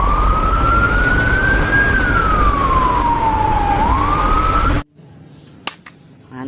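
A toy fire ladder truck sounds a loud electronic siren that sweeps slowly up and down in pitch, then cuts off sharply, followed by quieter handling clicks.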